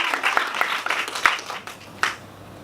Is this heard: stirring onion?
no